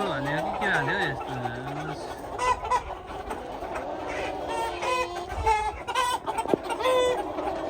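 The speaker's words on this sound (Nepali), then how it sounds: "भाले हेरौँ है साथीहरू।" Roosters and chickens on a farm in Australia cluck and squawk in bursts near and far, with a rooster's call early on, while people talk over the birds throughout.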